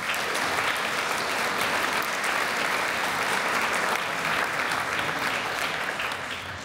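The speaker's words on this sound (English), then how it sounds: "last round of applause for the staff here today" An audience at a village address gives steady, sustained applause for the village staff, a dense wash of clapping from a full room that stays even throughout.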